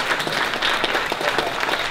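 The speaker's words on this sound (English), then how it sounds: "Let's have another round of applause." Steady, dense applause from an audience at the close of a speaking event, loud and sustained throughout with no gaps.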